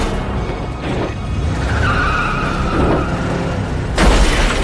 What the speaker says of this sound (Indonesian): efek tabrakan itu membuat kepala Alonso terbentur